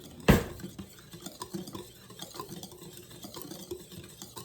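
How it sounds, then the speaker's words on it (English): A whisk beats ingredients in a bowl for whole wheat crackers and bread, starting with one loud knock, then quick soft rhythmic clinks and scrapes that continue evenly. "Give it a whisk."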